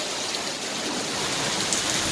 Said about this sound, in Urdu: اس سے پہلے ایک آدھ بار بارش ہو چکی ہے، پھر الحمدللہ بارش ہو رہی ہے